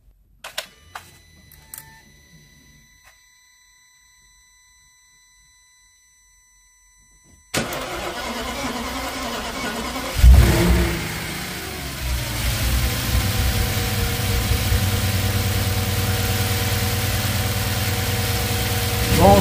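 An Audi S8 engine cranks and fires on the first try after sitting quiet in a workshop, its roar surging and then settling into a loud, steady idle that runs on evenly, with no talk over it.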